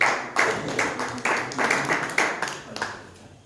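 A church congregation claps in a steady rhythmic beat, with many hands striking together at regular intervals, fairly close and lively, fading slightly toward the end.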